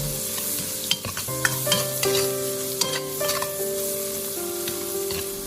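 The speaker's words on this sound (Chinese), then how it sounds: "接下来把刚才切好的姜蒜、小米辣倒入锅中，再快速的翻炒均匀" Chopped ginger, garlic and small chili peppers are stir-fried quickly in a wok, a loud steady sizzle with repeated scraping strokes and clinks of the spatula, close up and with no speech.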